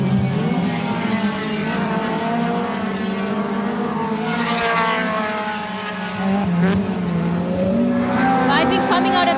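Race cars up to 1600cc roar around a circuit, a continuous loud engine drone with rising and falling pitch as cars pass and shift, heard under a commentator's ongoing talk.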